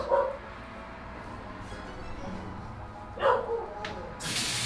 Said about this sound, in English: Sorry about this dog in the background.